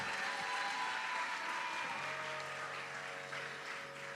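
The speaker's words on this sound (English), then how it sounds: "I think Geetika deserves another round of applause for that, no?" An audience claps steadily at a Bharatanatyam dance debut recital, a dense wash of applause that stays even throughout and tapers slightly near the end.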